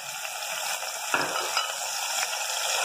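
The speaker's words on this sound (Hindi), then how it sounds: "ये लहसुन अदरक जो है ना, ये भून चुका है इसका अच्छी तरह" Garlic ginger paste frying in a pot, a steady close sizzle with occasional stirring scrapes and a brief louder clatter, no talking.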